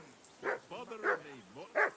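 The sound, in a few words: dog barking in the video game Kingdom Come: Deliverance II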